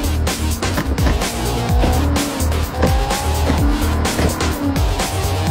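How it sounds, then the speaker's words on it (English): Race cars in a street-racing movie scene roar loudly through repeated engine revs and upshifts, with tire squeal and a dense, continuous mix of engines and score-like background sound. "the obligatory car racing scene. Each driver will upshift a million times."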